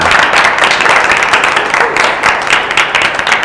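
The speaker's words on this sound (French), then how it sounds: "Je crois que ça s'applaudit." Close, loud clapping from a group at a meeting with the leaders of the Challenge Talent finalist groups, a continuous brisk patter of hands with slight swells and no voices over it.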